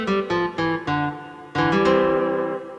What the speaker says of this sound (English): So that Spanish guitar sound you just heard me playing is on the lower right keyboard.